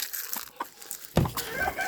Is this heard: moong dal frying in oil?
no